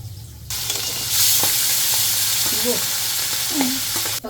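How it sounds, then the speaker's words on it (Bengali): Hilsa fish frying in hot oil alongside boiled taro while being stirred, a loud steady sizzle and hiss up close, broken by the scrape and clack of the spatula against the pan. "তার সাথে এখানে ইলিশ মাছটাও নাড়িয়ে চাড়িয়ে জাস্ট তেলের মধ্যেই বাকিটা রান্না হবে"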